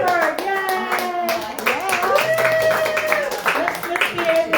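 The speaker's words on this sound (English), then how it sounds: "Let's give him a round of applause." An audience claps for a performer on a stage, a bright patter of hands mixed with cheering, shouts and overlapping voices. The crowd noise stays busy and fairly close the whole time.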